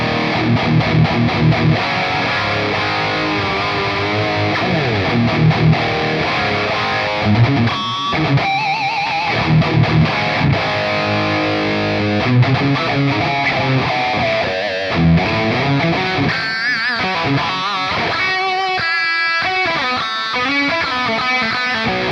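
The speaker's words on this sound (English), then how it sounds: "it's a capture of the Xotic BB Boost" Guitar runs through a Quad Cortex neural capture of an Xotic BB Boost pedal, giving a gritty overdriven tone with sustained chords and lead phrases, loud and continuous with no voices.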